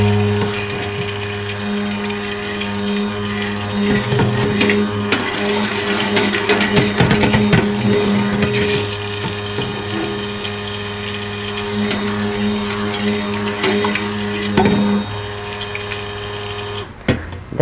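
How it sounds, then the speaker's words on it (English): A stick blender whirs in bursts through white soap batter, a steady motor whine with sloshing and rattling as the blade churns the thick mixture, fairly loud and close. "Pop the stick blender in there and give this a whiz"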